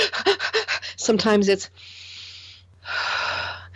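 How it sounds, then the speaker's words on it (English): A person deliberately breathes in and then out to demonstrate a calm breathing pattern. Two slow, audible breaths, an inhale and then a longer exhale, follow a short stretch of talking and are heard close and fairly soft. "We breathe in, we breathe out, we breathe in, we breathe out."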